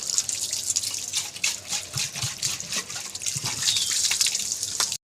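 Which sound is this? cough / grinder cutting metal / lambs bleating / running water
running water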